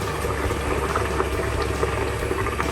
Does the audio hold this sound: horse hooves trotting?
no